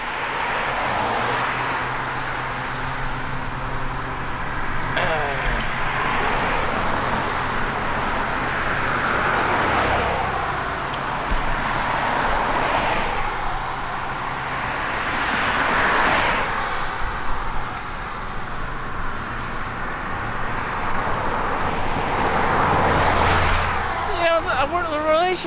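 Road traffic streams past a moving car in a continuous engine and tyre roar that swells and fades as vehicles pass, with someone talking over it almost throughout.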